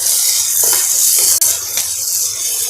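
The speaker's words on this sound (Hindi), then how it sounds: "सब्जियों को अच्छे से मिला लेंगे ताकि हमारा जो टमाटर और काली मिर्च पाउडर है वो भी बहुत अच्छे से मिक्स हो जाए" Vegetables with tomato and black pepper powder are stirred in a hot pan for semolina upma, making a loud, continuous sizzle broken by a few scraping strokes of a spoon.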